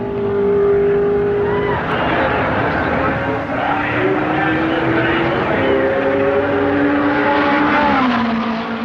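Late-1960s sports-prototype race cars at the 1969 Sebring 12 Hours, running the airport runway behind the pits, roar loudly and steadily with rising and falling engine pitch as cars pass, under a narrator's voice.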